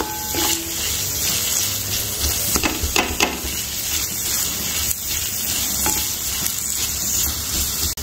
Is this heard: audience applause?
no